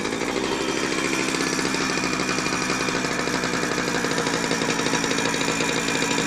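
A Jawa Typ 05 motorcycle engine running at idle that needs adjusting, a close, loud, rapid clattering putter that holds steady throughout with no voices.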